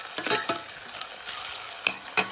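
Onions stirred in a pan with curry leaves and fennel seeds: a spatula makes irregular scraping strokes, with a few sharper scrapes near the end, over a soft background sizzle.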